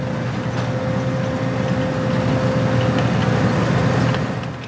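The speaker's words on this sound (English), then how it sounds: "A huge red giant machine lifting the crop straight out of the ground as it trundles across the field here in Lincolnshire." A huge red potato harvester lifting potatoes in a field in Lincolnshire: a steady, rumbling machine drone with a constant hum, fairly close and unbroken, with no talking.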